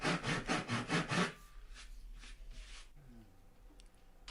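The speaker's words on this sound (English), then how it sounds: "I'm going to add some grooves in there with a handsaw" A handsaw cuts grooves into a piece of wood clamped in a vise, with about six quick rhythmic rasping strokes up front, then slower, fainter scraping and light handling noises in a quiet room.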